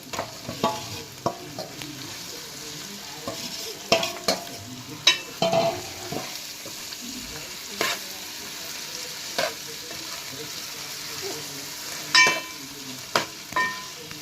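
A spoon stirs masala-coated fish pieces into a sizzling fish curry in a pan, with soft scraping strokes and intermittent clinks over a steady frying hiss, close and moderately quiet, with no talking.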